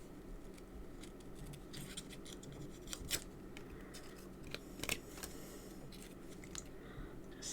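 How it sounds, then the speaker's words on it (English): Scissors snip craft card paper for handmade cards in a few quiet, crisp cuts with small rustles and taps between them, faint and close. "Just snip that little bit off there."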